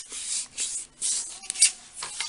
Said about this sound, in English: all you really need to do now is just to concertina fold these